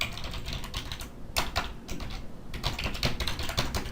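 Rapid typing on a computer keyboard, close and clear, with irregular bursts of key clicks and a short pause midway.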